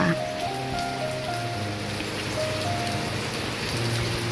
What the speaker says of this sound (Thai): ฝนตกปล่อยปล่อยเลย